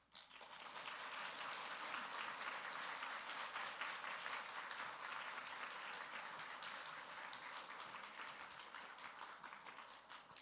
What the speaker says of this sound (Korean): 우리 강사 목사님 나오실 때에 따뜻한 박수로 환영해 주셨으면 좋겠습니다